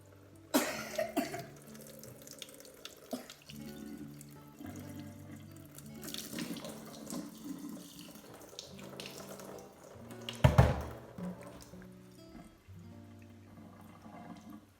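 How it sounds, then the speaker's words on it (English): Apple cider vinegar is poured over hair held above a sink as a hair rinse, giving a soft, continuous splashing trickle of liquid with a few louder bursts, including a cough partway through. "I hold it over here, and I pour the vinegar"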